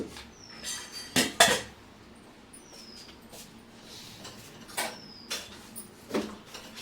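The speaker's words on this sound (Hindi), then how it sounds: "अभी बर्तन रख के आती हूँ।" Kitchen utensils being put away in a home kitchen, several sharp metallic clanks and clatters of steel dishes set down at irregular intervals, close by, with quiet gaps between.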